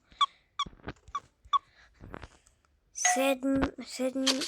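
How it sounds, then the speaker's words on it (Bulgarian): A dog whimpers in a supermarket video game, with several short high whines early on, followed by louder overlapping game sounds and voices near the end. "Сигурно кученцето му е гладувал"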